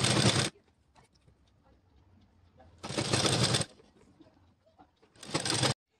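A sewing machine stitches fabric piping onto a blouse neckline in three short bursts of whirring, near and fairly loud, separated by quiet pauses with faint handling noises.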